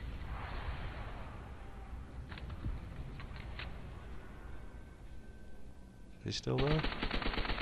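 Gunfire and explosions from the World War II shooter Call of Duty: World at War, a steady rattle of distant shots with a louder, denser burst of firing near the end, under occasional talk.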